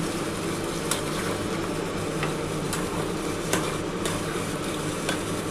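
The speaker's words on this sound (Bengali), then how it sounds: "সামান্য অল্প একটু জল দিয়ে একটু কষাচ্ছি।" Spice masala for a vegetarian yam curry sautéing with a little water: a steady loud sizzle and bubbling with a few faint spoon taps scattered through, close up and with no voices.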